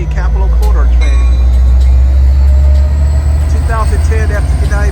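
An Amtrak Capitol Corridor train led by a 2010 F59PHI diesel locomotive sits at Emeryville station, its loud engine rumble droning low and constant, with faint chirps and a voice speaking over it.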